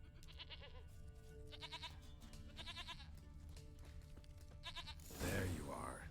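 A goat bleats several times in the video game The Witcher 3, with wavering cries over quiet game music and ambience. A closing burst of louder noise follows.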